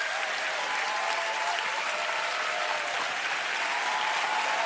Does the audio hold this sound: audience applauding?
yes